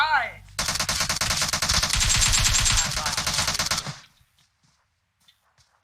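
Gunfire in PUBG Mobile: a loud, close automatic burst of rapid shots runs for several seconds, then cuts off into near silence. A short voice is heard before it.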